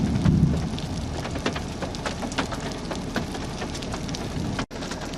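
Hail pelts down during a tornadic storm chase near Girard, Texas, a dense, steady clatter of stones striking surfaces close by, continuous throughout with scattered sharper impacts and a brief dropout near the end.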